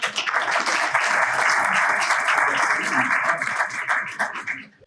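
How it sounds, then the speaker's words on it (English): An audience at a chamber of commerce congressional forum with Congressman Seth Moulton breaks into steady, dense applause lasting several seconds, close and loud, with a brief murmur of voices underneath before it tapers off. "So give our friends a round of applause"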